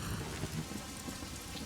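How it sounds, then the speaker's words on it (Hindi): Heavy rain pours down in a dense, unbroken roar, close and steady, with no talking. "बारिश हो रही है"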